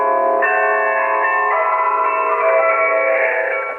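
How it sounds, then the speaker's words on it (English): Radio Netherlands interval signal on shortwave, a melodic sequence of tuned bells playing "Merk toch hoe sterk", sustained ringing tones overlapping steadily with a band-limited radio quality, alone without talk. "It's Merk toch hoe sterk, our interval signal that would announce Radio Netherlands' arrival to the shortwaves."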